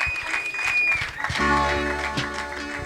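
An audience applauds a comedian named Kadudu at a Rwandan comedy show, with steady continuous clapping and a brief voice at the start.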